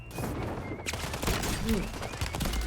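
Shotgun blasts boom in a video game, a few sharp, heavy shots against a busy background of in-game noise, with a player talking over them.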